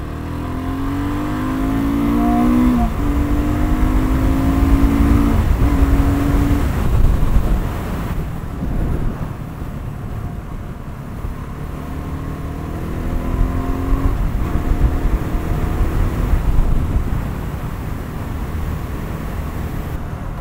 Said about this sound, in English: Okay, it does have some engine braking in there.